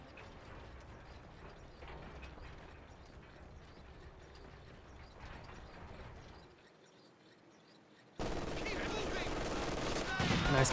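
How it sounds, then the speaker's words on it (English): Artillery barrage from a ZiS field gun strikes an MG42 machine-gun position in the World War II strategy game Company of Heroes 2, with dense battle noise that drops briefly before a loud, sustained burst of explosions and crackling. "Zisk gun barrage gets directed there on the MG42"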